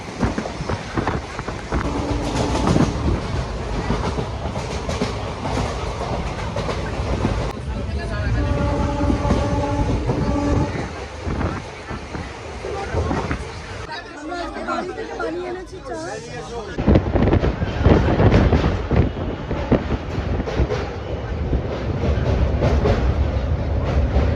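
A passenger train runs at high speed on the Kolkata to Bolpur line, heard from inside a carriage as a loud continuous rumble with rail clatter. Passengers chatter throughout.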